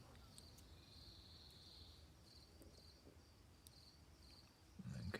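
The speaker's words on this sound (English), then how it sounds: "I hear the crickets" Crickets chirp outdoors in faint, repeated high trills that come and go at low volume, with a brief rustle or thump near the end.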